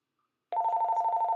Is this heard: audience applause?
no